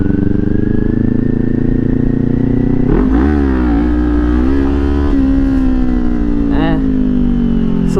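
A 2022 Kawasaki Ninja 400 fitted with a LeoVince slip-on exhaust revs loudly and close in a low gear, its steady engine drone swelling and dipping in pitch as the throttle opens and eases.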